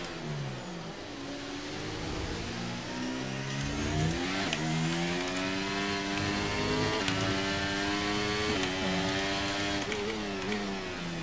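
A historic racing car engine at the Brazilian Grand Prix in a video game revs and shifts through gears, its whine climbing and dropping repeatedly, loud and continuous throughout.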